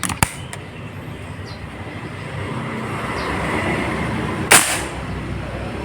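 A single air rifle shot from a Yumaja Sempiternal or SW 13GR gives a sharp, loud crack against a steady outdoor hiss, with a softer click near the start.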